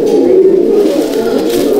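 A male Nita Ustad Malbai/Panjabi pigeon coos steadily in a loft, one low, throaty, unbroken murmur heard up close for a couple of seconds, with no voices.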